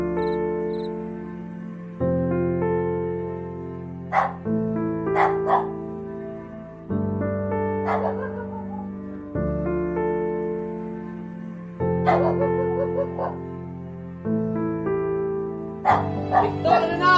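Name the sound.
dogs barking in an audio drama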